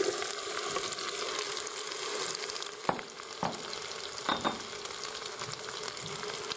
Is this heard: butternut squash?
yes